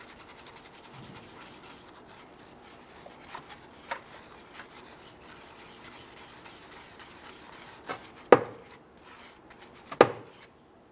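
A wire brush scrubbing a rear differential yoke on a 2013-2020 Ford Fusion 2.0L, faint repeated rasping strokes in an uneven rhythm, with two sharper louder scrapes near the end.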